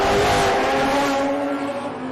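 A six-cylinder HQ Monaro GTS race car at Sandown raceway roars loud and close, its engine note holding steady at high revs before easing slightly as it moves off.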